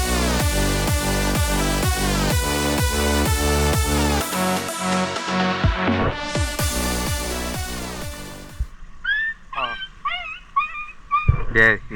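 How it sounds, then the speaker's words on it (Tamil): A dog trapped in a river cries out with yelps and whimpers amid loud, tonal background sound, followed by sharper high-pitched cries toward the end. "இந்த நாய் கத்துறாது."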